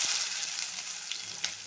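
Chopped onions, with mustard seeds, urad dal, cumin and fennel, sizzle in hot oil for a chicken gravy, giving a steady, fairly quiet frying hiss with faint crackles.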